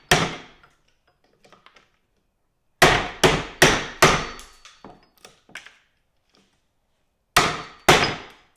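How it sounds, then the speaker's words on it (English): A survival shovel's blade chops into wood in sharp, loud strikes: one hit, a few faint taps, then a quick run of five or six heavy blows and two more strikes after a pause. "So now I'm gonna see if this can chop some wood"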